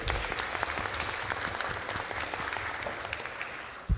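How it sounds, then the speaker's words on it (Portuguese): Sustained applause for a union's board at a solemn session in the Chamber of Deputies, dense, even clapping from a large audience throughout. "Uma salva de palmas para a diretoria."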